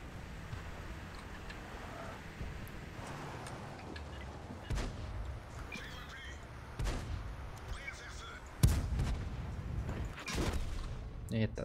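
Tank cannon shots in the World of Tanks video game, several heavy booming blasts spaced a couple of seconds apart over a rumbling engine and battle background, with a player talking throughout.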